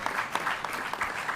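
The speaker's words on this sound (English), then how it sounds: "you can clap for that" Brief, fairly faint applause from an audience at a mayoral press event on a new arena, scattered claps pulsing through a soft crowd wash.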